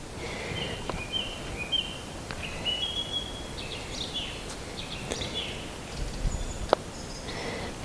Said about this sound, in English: It's really nice to be able to hear the birds.